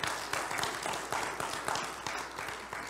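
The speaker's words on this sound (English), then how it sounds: "give him a round of applause." Congregation applauding in a church during a Sunday morning service, a steady dense wash of clapping that holds for the whole stretch without talk over it.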